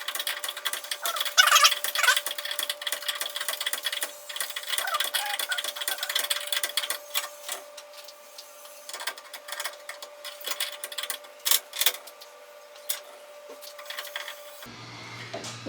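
A wrench tightens a nut on a garage door opener chain, giving a steady run of fast ratcheting clicks close by, with a faint hum underneath and a few louder knocks near the end.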